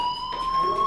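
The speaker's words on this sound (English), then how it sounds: "Hey, do you hear that fire alarm?" A fire alarm rings in the video game Life is Strange, a continuous steady electronic tone with high harmonics sounding alone and fairly loud.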